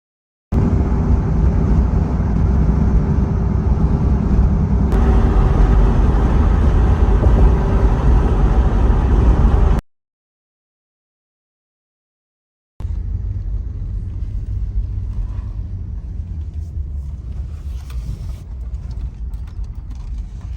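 A car drives toward the Allegheny National Forest with a loud, steady engine and road rumble from inside the cabin, then a brief silent gap, then a similar but slightly quieter drive with faint creaks.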